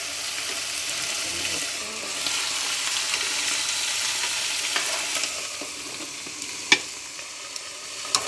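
Water spinach stir-fried with garlic in a pan, a steady loud sizzle of frying with occasional clinks of a utensil, no talking.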